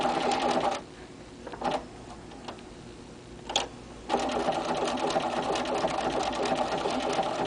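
A sewing machine stitches fusible appliqué in bursts, running steadily, pausing for about three seconds with a few short clicks, then starting again at full speed.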